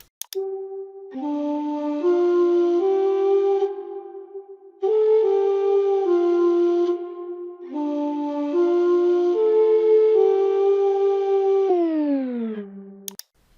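A looping electronic music phrase made in BandLab with a deep bass line under a breathy flute melody. It plays in sections with short breaks and drops in pitch at the end.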